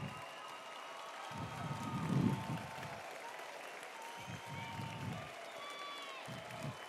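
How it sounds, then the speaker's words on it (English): Students at a robotics regional competition stand and applaud their mentors, a faint, distant wash of clapping from a large crowd that swells and fades over several seconds, with voices murmuring underneath. "we have a tradition here where the students stand and applaud their mentors"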